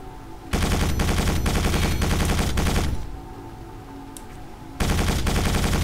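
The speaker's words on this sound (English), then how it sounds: "your machine gun can be used to take out missiles or shoot anything that you don't feel like dealing with" Rapid sustained machine-gun fire from a hover tank in the video game Quake 4, loud continuous bursts with a pause of lower rumble before firing resumes.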